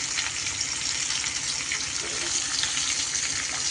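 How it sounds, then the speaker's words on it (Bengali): Pieces of ash gourd frying in a pan as they are turned until reddish-brown, giving a steady, dense sizzle that holds at an even loudness throughout. "এইভাবে একটু উল্টে পাল্টে বেশ লাল লাল করে ভেজে নিতে হবে।"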